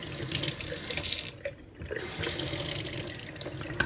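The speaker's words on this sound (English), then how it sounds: "now we're giving the sprouts a rinse" Water running steadily from a kitchen tap to rinse broccoli sprouts in a bowl, a continuous splashing flow that briefly cuts out partway through and then resumes, with no voices.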